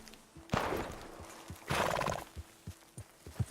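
A horse in the video game Red Dead Redemption 2 lets out two loud whinnies over a steady clip-clop of hooves that keeps a regular trotting rhythm, with no voices.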